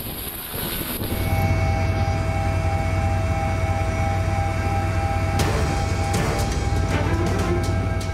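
A police helicopter flying over flooded Jakarta, its engine and rotor producing a loud steady droning whine that swells in after a quieter opening and continues without speech.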